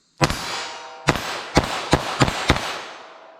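Six sharp, loud gunshots from a .22 magnum revolver at a range, spaced unevenly over about three seconds, each crack trailing into a short echo.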